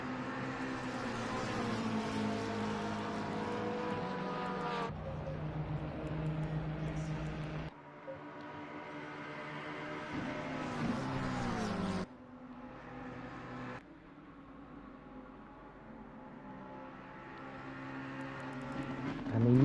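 Race cars lap the Spa circuit in a sim racing game, with layered engine drones rising and falling through gear changes over a long stretch, a commentator's voice faintly present, ending on a louder swell.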